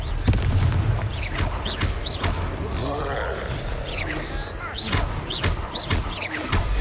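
Confringo fire-spell blasts in Hogwarts Legacy combat: repeated booming thuds and whooshing bursts over busy game effects, with a voice talking throughout.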